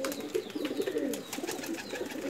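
Soft, low cooing from a flying pigeon close by, a continuous burbling murmur with a few faint chirps in the background.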